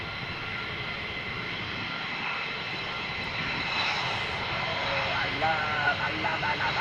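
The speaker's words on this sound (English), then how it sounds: "I love F-22s." An F-22 fighter jet's engine gives a steady broadband roar that swells slightly toward the end, heard at moderate level beneath a voice.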